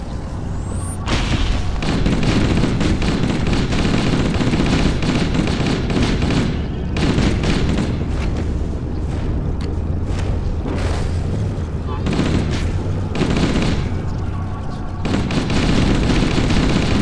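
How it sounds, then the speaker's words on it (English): Sustained assault rifle fire in the shooter game Halo CE Anniversary, loud and dense with rapid bursts and booming impacts, continuous combat noise filling nearly the whole stretch with brief lulls. "This is why I kept my assault rifle."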